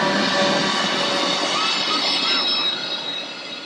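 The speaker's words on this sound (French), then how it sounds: "l'avantage de cette route transformée en piste est de pouvoir regarder passer les trains" A train on the railway line near Bergün passes close by with a loud, steady rush and high metallic wheel squeal, easing off slightly at the end.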